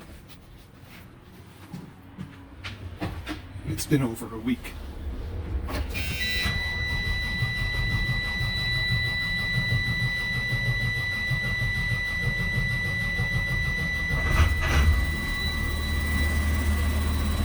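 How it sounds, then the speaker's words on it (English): Clicks and a grinding crank give way to a large converted school bus engine catching and settling into a steady, rumbling idle with a high whine; a voice speaks briefly early on. "I should have plenty of cranking power to start the engine"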